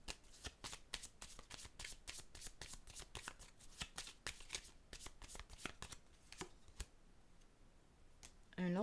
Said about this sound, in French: Je vais déposer une carte sur le voleur.